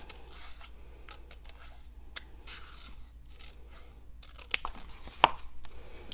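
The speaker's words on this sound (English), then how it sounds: "use my Detail Pro shears to just cut a random zigzag pattern like an Easter egg" Detail Pro shears snipping a random zigzag line through cardstock for a handmade card: a series of quiet, close, crisp cuts with uneven pauses and two sharper snips near the end.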